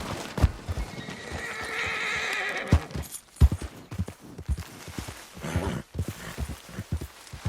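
A horse in Red Dead Redemption 2 whinnies loudly and close, while its hooves clip-clop in an uneven walking rhythm throughout.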